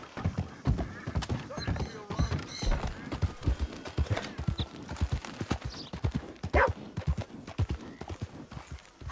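Horse hooves clip-clop in a steady, continuous rhythm in the PC game The Vengeful Adventures of Jim "Killer" Miller, fairly close and prominent, with other game sounds layered around them.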